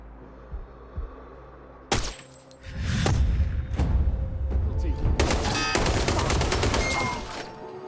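Rifles for Sniper Ghost Warrior 3 fired during a weapon recording session: a few sharp separate shots, then a sustained stretch of rapid overlapping gunfire with heavy low booms, loud and close.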